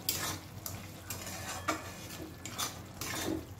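Prawns with taro leaves are stirred in a pan, making soft, repeated scraping strokes over a faint, low sizzle at a quiet, close level.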